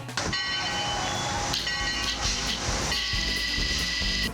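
A train rumbles steadily with a constant hiss of steam and sustained whistle-like tones, loud and continuous throughout.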